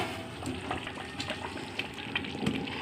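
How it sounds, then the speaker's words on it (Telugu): Wheat rava sweet cooked with jaggery and sugar is stirred in a pan, giving a soft bubbling simmer with wet scraping and stirring sounds, close and steady with no voices. "ఇది బాగా దగ్గర అయిపోయే వరకు మళ్ళీ కలపాలి."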